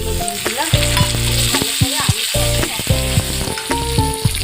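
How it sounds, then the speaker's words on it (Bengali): Spices fry with potatoes in a hot pan for a spicy fish roe dish, a loud close sizzle with repeated scraping and knocking of a stirring spoon, no talking. "দেখো মশলাগুলো ভাজা হয়েছে।"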